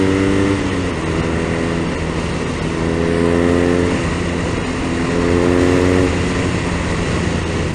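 A BMW R nineT Racer motorcycle drones steadily while riding, with its engine rising and falling in pitch through a couple of gear changes. The sound is loud and continuous, with wind noise and no talking.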